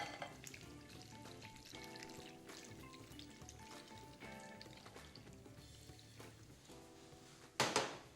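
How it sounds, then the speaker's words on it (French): Coconut juice is poured over hot mussels, raising a low, quiet sizzle with clinks and stirring, then a sharp loud hiss near the end. "et maintenant, je vais verser le jus sur les moules bien chaudes"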